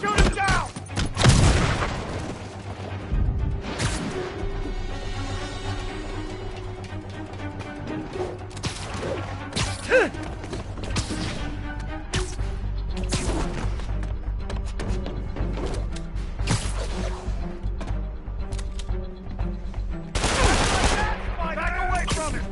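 Dense bursts of gunfire rattle through a Spider-Man video game fight, with repeated fusillades and booming hits over a constant low rumble and music, loud from start to finish.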